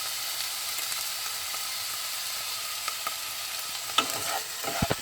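Pineapple fried rice with bacon, thin soy sauce and oyster sauce sizzling steadily in a hot pan, with a few close spatula scrapes and clacks toward the end.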